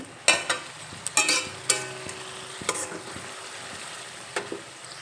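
Spiced parshe fish curry with tomato sauce is stirred in a pan, with repeated spatula scrapes and knocks over a soft, steady sizzle, close and moderately loud, in irregular bursts with no talking.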